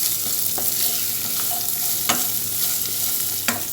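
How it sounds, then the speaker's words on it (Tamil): Onions sauté in a pan for a pea and capsicum rice, a steady close sizzle broken by several sharp scrapes and knocks of a spoon stirring. "வெங்காயம் போட்டு நல்லா வதக்கிடலாம்"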